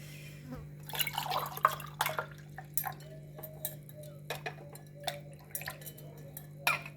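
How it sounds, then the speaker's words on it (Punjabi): Raw mango and mint sharbat poured into a glass over ice, heard as irregular clinks, drips and small splashes spread across the clip, with a voice now and then. "ਹੁਣ ਆਪਾਂ ਇਹਦੇ ਵਿੱਚ ਪਾ ਦਾਂਗੇ ਪਾਣੀ ਜਿਹੜਾ ਆਪਾਂ ਸ਼ਰਬਤ ਬਣਾਇਆ ਉਹ ਪਾ ਦਾਂਗੇ"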